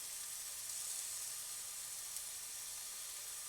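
Meat sears in a hot pan with a steady, even sizzle and hiss, close and continuous throughout with no talking.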